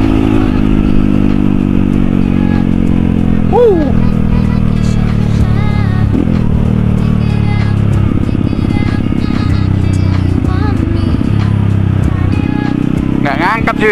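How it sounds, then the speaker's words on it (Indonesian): A motorcycle rides in fourth gear through traffic, its engine a loud continuous drone with small pitch shifts as the throttle eases, while a voice talks over it throughout. "Nggak ngangkat sih motornya, gigi 4 ya."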